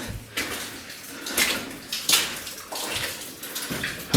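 Water dripping inside an old gold mine, sharp irregular drops and splashes landing close by against a hushed, hollow underground background, with no talking.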